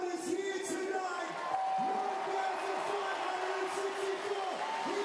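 A large crowd at an Adelaide 36ers NBL basketball game in their home arena roars and cheers steadily, a dense sustained wash of voices and whoops heard from within the stands.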